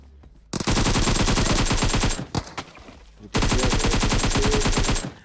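Two long bursts of rapid SMG fire in PUBG Mobile, loud and close, each a dense run of shots with a short gap between bursts and no talking.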